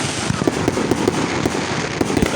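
Rapid strings of Fourth of July fireworks and firecrackers burst around a residential area, sharp repeated pops and bangs in quick irregular succession over a constant distant rumble.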